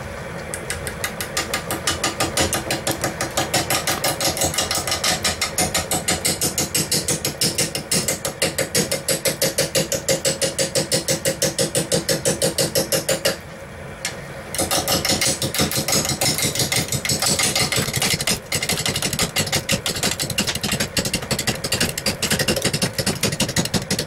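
Wood lathe running at 360 RPM while turning an epoxy vase, a steady rhythmic mechanical clatter and whir with rapid repeating ticks, loud and close, briefly dipping midway before resuming.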